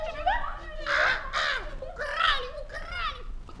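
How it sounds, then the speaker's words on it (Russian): Crows caw in a series of loud, harsh cries of several calls each, close by and overlapping, with a light bustle of voices in the background. "Ты слышишь, что птицы кричат?"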